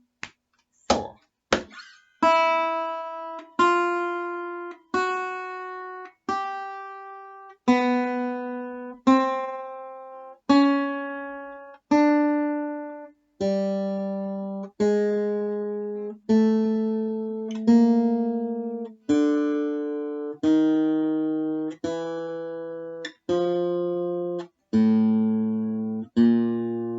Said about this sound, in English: So all 6 strings then would sound like this after 4.